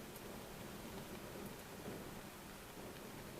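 Steady rain falls on a rainy day on the west coast of Ireland, a constant dense hiss without pause and with no voices.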